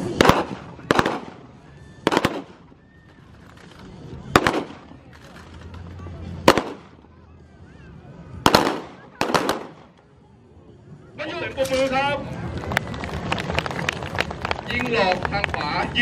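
Mock gunfire with blank rounds at an air force base children's day demonstration in Ubon Ratchathani, Thailand: loud, sharp single shots spaced a second or two apart, then a dense crackling burst, with an announcer talking over the range.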